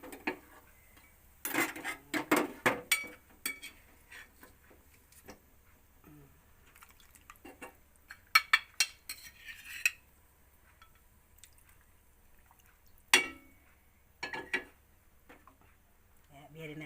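Chicken being put into a pot for Soto Ayam Surabaya in a home kitchen: scattered clinks, taps and wet knocks of pieces and utensils against the pot, in irregular bursts with quiet gaps, close by.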